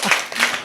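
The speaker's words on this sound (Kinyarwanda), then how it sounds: "Ni ukuri kw'Imana bakumera amashyi" Schoolchildren clap in a quick, brief burst of applause at a school, the sound close and fairly loud and lasting well under a second.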